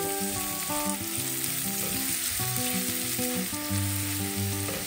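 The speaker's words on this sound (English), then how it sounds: "You should leave the onions for 2 minutes for it to nicely fry along with the garlic." Chopped onions and garlic sizzling in a pan for shrimp fried rice, a continuous close crackling fry heard alone, with faint background music underneath.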